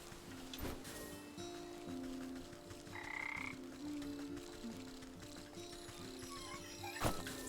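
Frogs croak in the game Wytchwood, a few rough calls standing out over a steady ambient bed of game music and background sound, with no talk.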